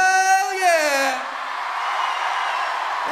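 A large outdoor rock festival crowd at Rock Werchter roars a massed shout after a brief rising voice, the cheer settling into a sustained, loud wash of many voices.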